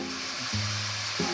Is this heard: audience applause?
no